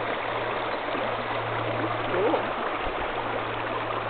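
Stream water flowing steadily at a river crossing on the Red Rock Trail, a continuous close rushing wash with a low steady hum underneath and no talking.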